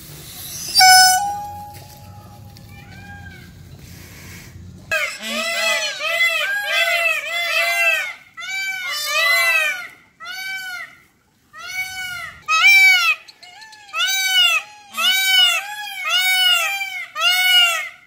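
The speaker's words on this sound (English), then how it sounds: "Peafowl are no exception to this, and during the spring and summer seem to make it a point to competitively be the loudest noise in the area." Peafowl give loud repeated calls, a rapid series of sharp, wailing honks in bursts that continue for over twelve seconds, preceded by a brief mix of other background sound.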